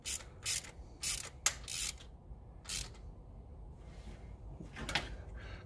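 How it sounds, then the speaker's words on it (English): Ratchet wrench tightening intake manifold bolts on a 1988 Ford Thunderbird: several close, quick clicking bursts in an uneven rhythm, with short pauses between strokes and fainter clicks near the end. "Put a little wrench."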